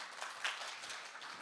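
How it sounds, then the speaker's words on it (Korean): A conference audience claps for a speaker at a data conference, a soft, even patter of many hands heard from some distance for just over a second, with no talk over it. "박수를 3번이나 받았네요."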